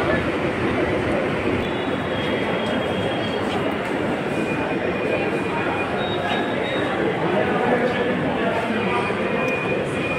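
A Delhi metro train at a station gives a loud, continuous rumble with thin high wheel squeals drifting in and out, while voices murmur in the background.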